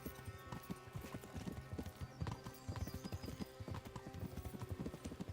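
Horse hooves clip-clop steadily and close as a rider travels in Kingdom Come: Deliverance, with a faint whinny and layered game ambience beneath the rhythmic steps.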